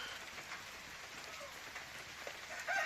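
Steady light rain patters continuously on a snowy spring day, a faint, even hiss with no voices over it.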